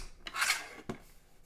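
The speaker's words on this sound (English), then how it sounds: "we're just going to trim off a teeny bit here" Someone trims a small bit off a handmade birthday box, making a brief soft rasping scrape followed by a short sharp snip, quiet and close with no talk.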